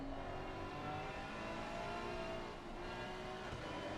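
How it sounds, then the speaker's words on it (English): A Ferrari race car in a console racing game at Watkins Glen, its engine droning steadily at mid pitch as the driver eases off the throttle, with a continuous, close engine note and a slight dip partway through. "you hear it almost as well, that lifting of the throttle"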